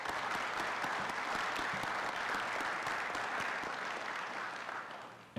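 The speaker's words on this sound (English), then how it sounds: "So please give Rebecca a round of applause." Audience applause at a city council meeting, a steady round of clapping from a room of people that holds for several seconds before tapering off.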